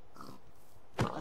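A pig in the Minecraft video game gives one short close grunt near the end after a faint, low murmur; no talking.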